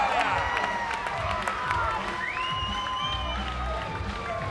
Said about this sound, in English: Up on the lane ropes, asking the crowd to applaud that win